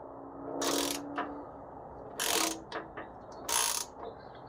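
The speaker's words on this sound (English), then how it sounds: "now you want to torque the drain plug to 25 foot-pounds" A torque wrench ratcheting as it tightens the transmission drain plug on a Nissan Frontier: three separate bursts of close, crisp clicking, each followed by small metallic ticks, with quiet pauses in between.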